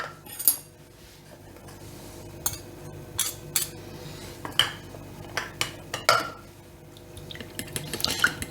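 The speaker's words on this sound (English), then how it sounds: "I'm gonna whisk that all together." Scattered metallic clinks and taps of a whisk against a bowl, irregular and close, as a sauce with arrowroot thickener and anchovy oil is mixed, no voices.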